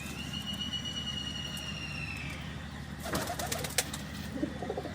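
A pigeon coos nearby in low, rolling murmurs, faint against steady background noise, followed by a short burst of clattering and rustling.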